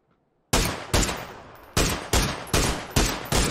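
SLR rifle shots in PUBG, six loud, sharp reports fired at a steady semi-automatic pace after a brief silence, each ringing out before the next.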